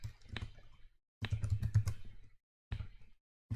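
Typing on a computer keyboard while entering network bonding configuration text, with bursts of close, crisp key clicks separated by short silent pauses.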